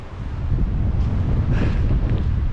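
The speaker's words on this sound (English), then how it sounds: "It'll probably be a little windy" Wind gusting across the exposed summit of Pine Mountain, Georgia, a loud continuous buffeting roar rumbling against the microphone with no one speaking.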